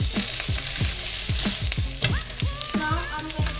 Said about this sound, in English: You can hear the beautiful sizzling sounds of the vegetables.